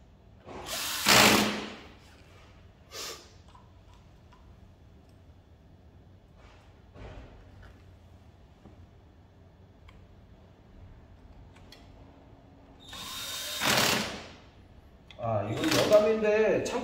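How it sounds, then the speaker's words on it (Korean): A 12V Swiss Military electric screwdriver drives the last two screws into a Fuji Xerox DocuCentre IV C2265 copier: two loud whirring bursts, one near the start and another near the end, with quiet handling clicks between. "나사 나머지 두 개를 더 결합을 합니다."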